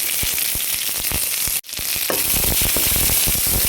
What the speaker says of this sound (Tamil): எல்லாத்தையும் அப்படியே வதக்கி கொடுங்க